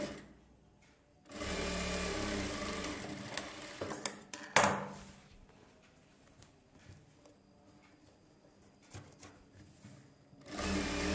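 A sewing machine stitches two silk blouse borders together in close-up bursts: a short run, a longer whirring stretch, then quieter pauses with small clicks and handling knocks before it starts up again at the end.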